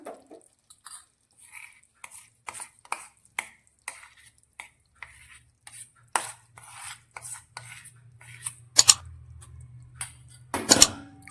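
Ground peanuts being stirred into melted jaggery in a pan for chikki, heard as scattered light scrapes and clinks of a spoon against the pan, with a low hum partway through and louder knocks near the end.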